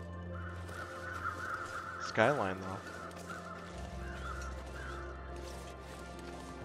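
Crows cawing in a survival video game set in wilderness, a short burst of harsh calls partway through over steady ambient wind and background sound, with a voice talking over it.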